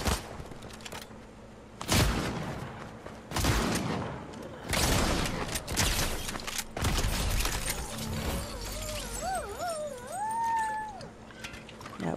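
Gunfire in a Fortnite Zero Build ranked solo match: a few loud broadband bursts of shots over dense game noise, with whooshing effects and rising tonal sweeps toward the end.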